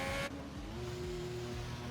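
A Mercedes Formula 1 car races in the F1 2020 video game at the Hungarian Grand Prix, its high engine whine holding a steady, fairly faint tone after a brief louder burst at the start.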